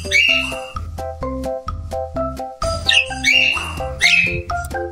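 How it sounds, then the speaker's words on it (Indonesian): An animated parakeet sound effect chirps in a series of bright, whistly tweets over a plucked musical backing, close and clear with no talk. "Burung parkit."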